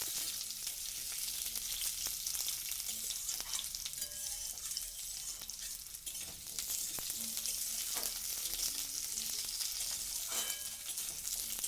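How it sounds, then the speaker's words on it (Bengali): Potatoes fry in hot oil with a constant crackling sizzle, broken by repeated scraping clicks of a spatula stirring them, close and alone without voices. "আলুটাকে তেলের মধ্যে একটু নাড়াচাড়া করে নেব"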